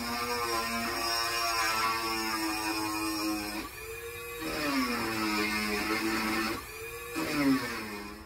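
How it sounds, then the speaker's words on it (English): Dremel rotary tool grinding out a Kohler K321 engine air intake on a Wheel Horse GT14 tractor, a close, steady high-pitched whine whose pitch dips and rises as the bit loads and frees, with brief pauses between passes. "So after a bunch of grinding with the Dremel"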